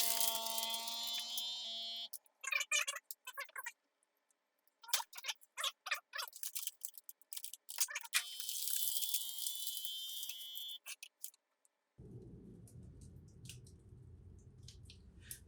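Bag of freeze-dried lasagna in a vacuum sealer: squeaky handling noises and scattered clicks, then a steady low motor hum from the pump over the last few seconds, close and fairly quiet.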